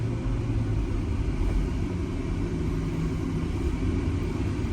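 A 2005 Mercedes-Benz SL500 R230 on coilovers is driven slowly toward a garage, producing a steady low engine and road rumble, close and continuous with no speech.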